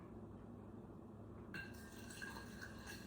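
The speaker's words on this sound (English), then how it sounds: "I'm gonna water it down just a little bit more" Water poured from a container onto a chicken paste while cooking rosemary paprika chicken, a faint liquid trickle and splash that starts partway through, quiet against a low room hum.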